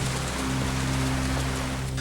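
Steady, dense rainfall hissing across the whole clip, with a low continuous rumble beneath it and no voices.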